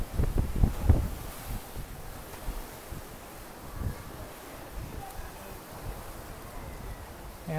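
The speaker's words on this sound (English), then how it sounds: "a very windy day. It's normally not quite this windy." Strong wind buffets the microphone at a seaside resort dock area, a steady broadband rush with a few heavier gusts early on and possible surf beneath.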